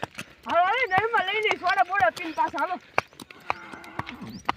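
A mare whinnies in a long, wavering call, followed by a few sharp knocks and clip-clop hoofbeats, close by with a person talking.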